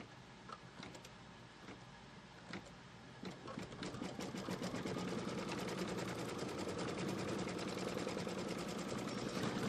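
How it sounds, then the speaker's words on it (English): Embroidery machine stitching to tack down quilt fabric, a steady rapid needle chatter that starts in scattered bursts and then runs continuously, growing louder, with no talk over it. "So let's put the foot down and let's tack down this fabric."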